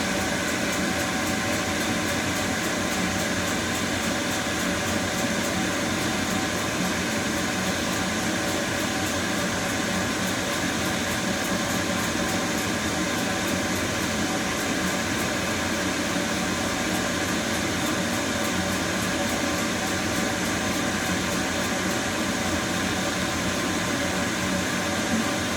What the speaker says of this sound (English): the air assist is working to blow the smoke right away